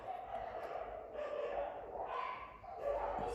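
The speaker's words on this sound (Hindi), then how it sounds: "शायद बाहर कोई युद्ध हो गया कुत्तों का, तो थोड़ा सा वेट कर लेते हैं।" Dogs bark and fight outside, a run of muffled, distant barks, yips and whimpers in quick overlapping bursts, heard through walls at moderate volume.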